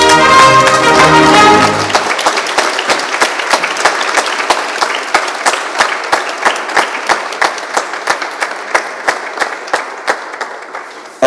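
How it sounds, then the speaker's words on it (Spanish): Audience at a graduation ceremony gives loud, sustained applause that starts dense, then thins into scattered individual claps fading toward the end, with no talk over it. "Un fuerte aplauso para ustedes."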